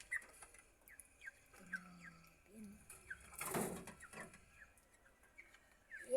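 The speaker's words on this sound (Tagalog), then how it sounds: "yan na nga pala yung kalapati natin." Pet pigeons cooing softly in short repeated calls, faint and close, with a brief rustling burst midway and light background chirps.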